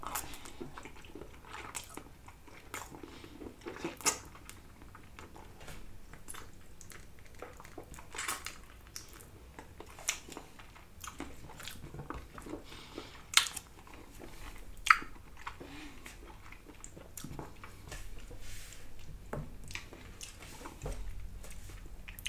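Someone bites and chews dim sum chicken feet close to the microphone: repeated wet crunches and squishy mastication, with occasional sharper bites standing out over a quiet background.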